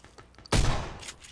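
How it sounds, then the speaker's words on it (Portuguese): A single loud, close gunshot in PUBG Battlegrounds, a sharp crack with a short booming tail, preceded and followed by faint quieter shots. "Você que tá atirando?"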